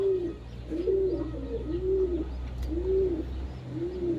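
A pigeon coos close by in five or six evenly spaced, soft throaty calls, with a low steady hum underneath and no talking.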